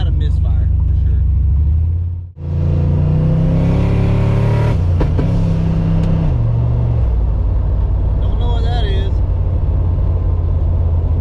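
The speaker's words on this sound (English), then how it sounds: "It's got a misfire for sure." A car engine runs roughly with a misfire, a close, loud low rumble that briefly cuts out, then picks back up and revs higher before settling, with a voice talking near the end.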